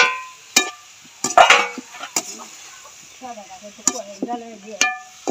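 Cucumbers being stir-fried in a pan for a sautéed vegetable dish, a spatula scraping and tapping the pan in sharp, irregular strokes, with a clucking chicken heard nearby.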